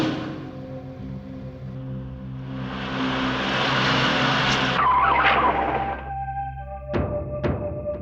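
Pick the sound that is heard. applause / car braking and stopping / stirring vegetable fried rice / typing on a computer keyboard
car braking and stopping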